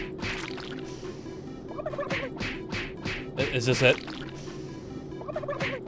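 Turkeys gobble in quick repeated bursts during the Super Turbo Turkey Puncher minigame in Doom 3, loud and close, with a brief spoken question mixed in.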